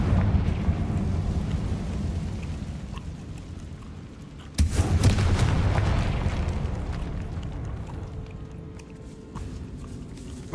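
A Confringo fire spell from Hogwarts Legacy bursts with a sudden loud blast about midway, followed by a rumbling, crackling tail over a steady low ambient bed, with no voices.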